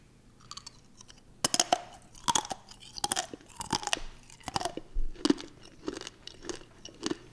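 Chewing on crunchy Garbage Pail Kids gum, heard up close as a series of loud, irregular crunches and wet bites.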